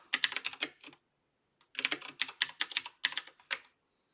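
Close fingers tap a computer keyboard in two quick bursts of crisp keystrokes with a short pause between them, and no voice.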